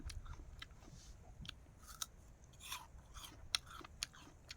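Crisp bites and wet chewing of a crunchy, juicy apple dipped in chili salt, close to the mic, with several sharp crunches spread through the clip over quiet background.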